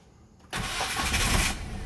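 Quiet for a moment, then a Mitsubishi Strada pickup truck engine with a fuel leak fault suddenly catches and fires up in one quick start, settling into a loud, rough idle close by.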